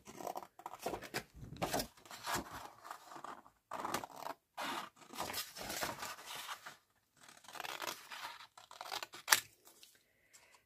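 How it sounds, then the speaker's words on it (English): Scissors cutting blue and green paper for a Christmas junk journal envelope, close crisp snips and scratchy slicing in bursts separated by short pauses. "So I'm going to cut some of the blue and some of the green."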